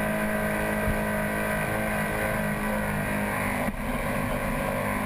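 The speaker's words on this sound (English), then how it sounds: "listen to the revs. She's pinned." V8 superboat jet boat engine held at full throttle in a race, a sustained loud high-revving drone with steady tone and a brief dip near the end.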